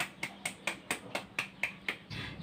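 A few people in a class clap slowly and unevenly after student presentations, with about nine separate claps spaced at regular intervals and no talking during them.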